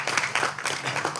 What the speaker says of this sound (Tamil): மாஸ்டருக்கு பலத்த கரகோஷம் கொடுங்க இந்த நேரத்தில்